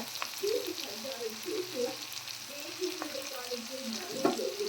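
Food with fresh coriander being stirred in a hot pan, a steady bed of frying hiss with soft scraping strokes from the spoon throughout, no talk.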